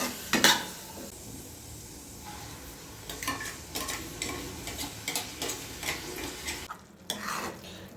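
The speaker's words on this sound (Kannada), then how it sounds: "ಇಲ್ಲಿ ನಾನು ರುಬ್ಕೊಂಡಿದ್ದೆಲ್ಲ ಮಸಾಲೆನ ಹಾಕ್ಕೊಂಡು ಇವಾಗ ಈ ಥರ ಫ್ರೈ ಮಾಡ್ಕೊತಾ ಇದ್ದೀನಿ." Ground masala and onions frying in a pan, stirred with a spoon: scraping strokes and light sizzle come in bursts, with metallic clinks of the spoon on the pan, close and moderately loud.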